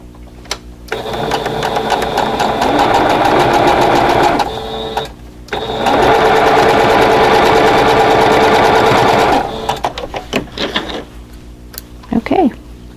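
A sewing machine stitches quilt block seams with the seams facing up, running loud and steady in two long bursts separated by a short pause, then trailing off into scattered handling clicks.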